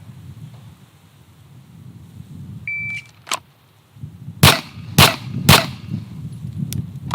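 Pistol shots at a target outdoors: a sharp crack, then three loud close reports in quick succession, each snapping out against light wind noise, with a faint click between.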